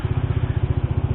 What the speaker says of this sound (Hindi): बाइक का आवाज सुनने का थोड़ा अच्छा लगा।